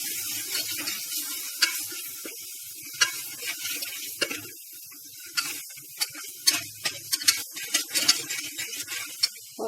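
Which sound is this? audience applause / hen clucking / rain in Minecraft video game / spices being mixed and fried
spices being mixed and fried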